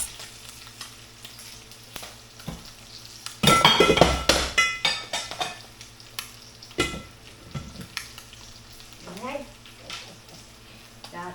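Metal pot lids fall and clatter in a home kitchen while garlic is being prepared for a sauté. A sudden loud burst of clanging and ringing is followed by a few quieter clinks over low background kitchen noise.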